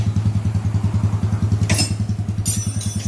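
Motorcycle engine running through a newly fitted exhaust pipe, a loud, close, rapidly pulsing low putter with a brief higher burst near the end, no talking.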